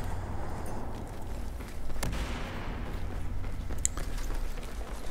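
P90 hip-fire in Battlefield 4 shows as a loud burst of gunfire over constant game battle noise, with a sharp report and a faint later crack.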